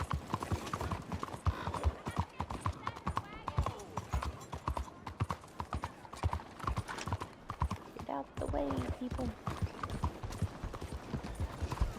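Horse hooves clip-clopping at a gallop in Red Dead Redemption 2, a rapid steady rhythm close by, with someone talking over the running hooves and a brief whinny.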